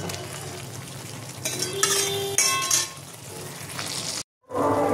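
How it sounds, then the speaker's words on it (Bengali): Spice paste sizzles and spits in hot oil, with stirring scrapes and bursts of louder frying, then a brief silence before the sizzle resumes. "এবার মশলাটা আমি তেল ছাড়া পর্যন্ত কষিয়ে নেব"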